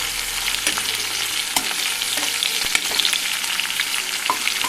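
Food frying in hot oil in a pan makes a loud, continuous, dense sizzle with occasional crackles and stirring scrapes throughout, close up and with no voice.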